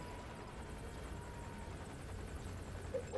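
A helicopter hovers in the video game Metal Gear Solid V, its rotor a steady, fairly faint whooshing drone at a distance, with no voices.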